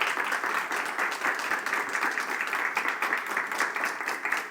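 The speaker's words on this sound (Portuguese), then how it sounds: "recebam com afeto e com aplausos a nossa convidada de hoje, Christina Halter." Audience applause welcoming a guest lecturer to a talk in May 2023: steady, dense clapping from a room full of people that holds at an even level for the whole stretch, with no voices over it.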